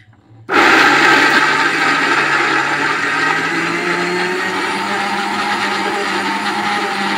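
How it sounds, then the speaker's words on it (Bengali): An electric blender grinds dried coconut pieces into powder. After a short quiet moment it switches on abruptly and then runs as a loud, close, continuous whirring roar that eases only slightly over several seconds. "এরপর ঢাকা চাপাটা দিয়ে আমি ভালো করে এটা গুঁড়ো করে নেব।"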